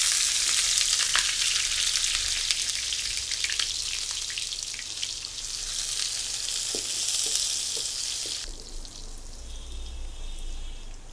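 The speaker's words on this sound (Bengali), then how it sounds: "আর এখানে আমি কিছুটা তেল দিয়ে দিয়েছি আর দিয়ে দিচ্ছি এখানে পেঁয়াজ।" Chopped onions sizzle in hot oil in a pan for a kitchen-made liver curry, a steady bright crackle with a few soft stirring taps before the hiss drops away near the end.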